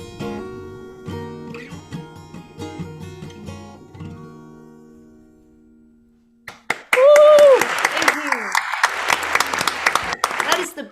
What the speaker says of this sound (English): The best virtual applause I have heard during all of COVID.